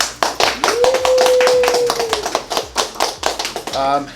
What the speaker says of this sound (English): So I wanted to give you guys a round of applause for that.